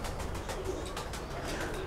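Domestic pigeons cooing softly among a flock, a faint murmuring coo over steady broadband background noise, fairly distant and low in level.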